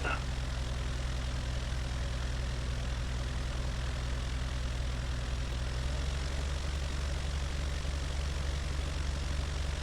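A light aircraft engine droning steadily while taxiing, a continuous low hum heard from inside the cabin, loud and unbroken throughout.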